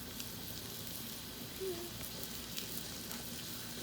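Pancake batter sizzles steadily on a hot Blackstone flat-top griddle, a soft continuous hiss with a brief louder crackle partway through; no one speaks.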